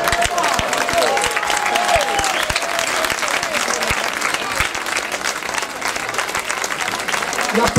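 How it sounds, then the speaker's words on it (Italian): Crowd at an outdoor music festival applauding a maestro on stage, sustained dense clapping with sharp individual claps standing out and a brief tonal sound early on, loud and continuous. "L'applauso al grande maestro, giustamente."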